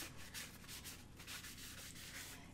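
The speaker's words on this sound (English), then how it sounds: "So now we're at the sanding stage." Steady, close scraping of sandpaper across a hardened epoxy glitter tumbler, a continuous gritty rub with repeated back-and-forth strokes throughout.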